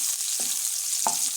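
Onions frying in a pan, a steady bright sizzle with two brief stirring scrapes, close up and with no voices.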